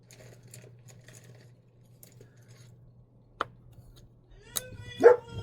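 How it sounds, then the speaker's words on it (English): Dogs break into a few sharp barks near the end, after a quiet stretch with a low steady hum and scattered small knocks indoors. "dogs barking"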